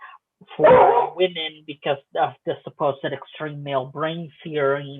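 A dog barks once sharply near the start, then stays under steady close speech from a woman during an interview in Washington, DC.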